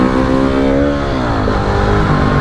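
A KTM 690 dual sport motorcycle engine revs hard and steady during an off-road wheelie, its pitch rising then easing and settling, loud and close throughout.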